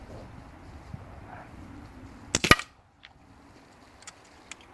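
Kral NP02 air rifle shots finishing off a magazine: a close pair of sharp, loud cracks in quick succession, with a few fainter isolated clicks before and after against quiet outdoor background.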